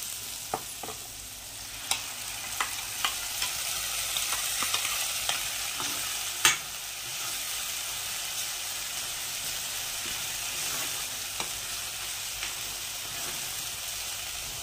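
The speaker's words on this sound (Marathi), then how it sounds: "आता हे आपण चांगलं परतून घेऊया." Masala paste sautéing in oil for garlic fenugreek (lasuni methi), giving a steady soft sizzle and hiss with occasional light stirring clicks and scrapes, moderately close and without talk.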